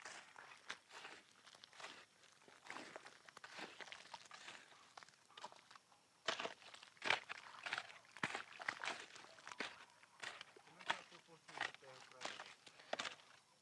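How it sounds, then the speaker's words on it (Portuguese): Bare feet tread and squelch through wet clay and earth being mixed with water for adobe bricks, giving irregular soft slaps and sloshes at close range, with faint voices at times. "a gente começa o processo de estar pisando na terra, pisando no barro."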